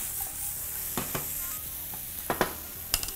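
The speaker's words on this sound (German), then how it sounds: "Paprika circa noch 2-3 Minuten anbraten." Bell peppers fry in a pan for a vegan rice noodle dish with oyster mushrooms, giving a continuous close hiss. Several sharp clicks and scrapes come from stirring, and no one speaks.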